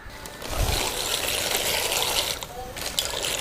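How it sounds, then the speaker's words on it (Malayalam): Macaroni drops into a pot of boiling salted water, making a close, steady watery rush and bubbling with a brief splash near the start, while a voice talks over it. "അതിലേക്ക് നമുക്കിനി മക്കറോണി തട്ടാം"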